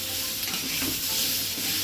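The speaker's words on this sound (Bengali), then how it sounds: "এবার এটা একটু ভাজা হোক।" Potatoes frying in a pan for a quick Bengali potato recipe, a steady close sizzle with a stirring scrape, and no talk.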